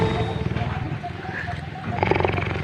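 Heavy, rasping breaths from a tiger in a cage, close by, rising and falling in steady pulls with a low rumble underneath and a voice murmuring in the background.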